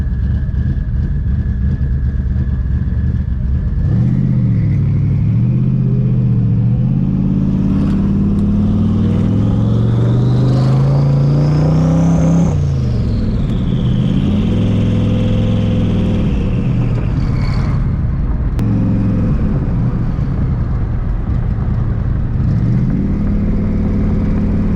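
A twin-turbo Ford Mustang Cobra pulls hard at wide open throttle on a street, its engine roaring loud and close as the pitch climbs through rising gear pulls, with shift breaks and turbo whine over the exhaust.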